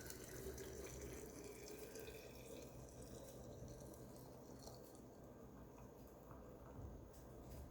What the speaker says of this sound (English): then I just fill it up to the top